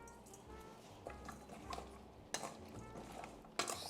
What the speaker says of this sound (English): Just kind of mix it together.